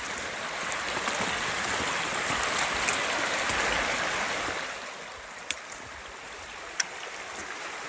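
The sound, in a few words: river stream flowing water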